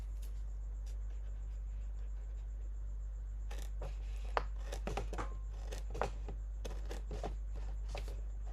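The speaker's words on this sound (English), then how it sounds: "I think I'm actually going to do this one with my scissors" Scissors snipping through iron-on vinyl for a Cricut project, a run of short, close, crisp cuts and rustles coming in a quick irregular cluster after a few quiet seconds.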